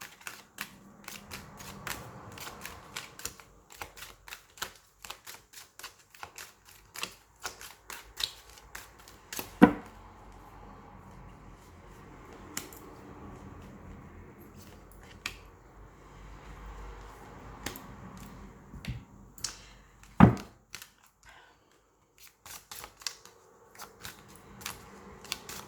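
Oracle cards being handled and drawn from a deck: soft flicks, taps and shuffling rustles in an otherwise quiet room, with two sharper snaps standing out.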